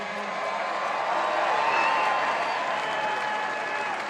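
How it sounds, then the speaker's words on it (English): Rugby league grand final fans cheer and applaud their captain Gallen, a continuous, loud wash of clapping and crowd noise with occasional whoops, swelling slightly midway. "Big cheer for the skipper and let him sit down, take a break now."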